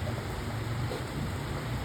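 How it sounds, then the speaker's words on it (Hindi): Heavy rain pours in a dense, steady broadband hiss, loud and close with no pauses and no voices. "बारिश बहुत तेज आ गई है, देखो बहुत तेज बारिश आ गई है।"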